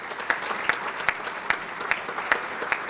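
An audience at the Merrimack Valley Chamber of Commerce annual dinner in 2021 applauds in a large room. The clapping is steady and close, with sharp claps recurring in an even rhythm.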